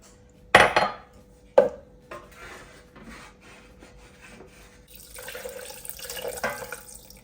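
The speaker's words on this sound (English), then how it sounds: "I am going to add around 100 to 200 ml of boiling water in this" Boiling water is poured into a pan, starting after a couple of sharp knocks and scrapes and building into a close, rushing splash that runs for the last few seconds.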